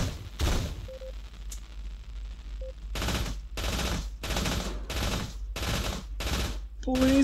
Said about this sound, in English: Well, minigun time.